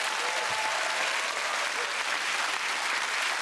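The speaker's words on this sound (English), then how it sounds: "Will you give them a huge round of applause?" A studio audience at a UK television game show breaks into loud, sustained applause, a dense steady wash of clapping that carries on evenly throughout.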